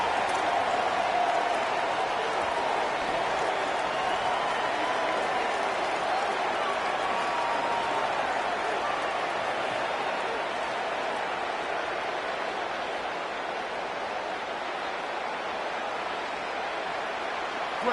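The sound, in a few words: football stadium crowd cheering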